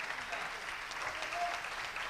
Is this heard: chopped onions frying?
no